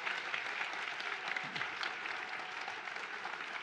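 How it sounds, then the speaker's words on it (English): Audience applause at the close of an onstage conversation event, a steady dense wash of clapping from a sizeable crowd filling the whole stretch at even loudness. "it's actually kind of an experiment what you're going to do when you applaud"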